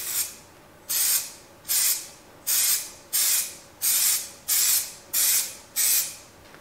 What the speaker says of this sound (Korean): 적당한 거리 30cm 정도만 떨어져서 일정한 방향으로 스프레이를 뿌려주시면 돼요